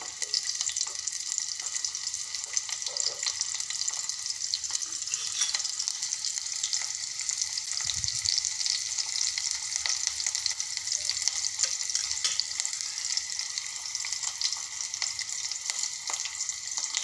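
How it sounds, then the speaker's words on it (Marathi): Finely chopped onion and sliced garlic fry in hot oil in a pan for an amaranth greens dish, a steady close hiss of sizzling throughout, with a brief soft knock midway. "मी एक बारीक चिरलेला कांदा व लसणाचे काप केलेले आता घालते याला छान मस्त हलकंसं शिजू देते"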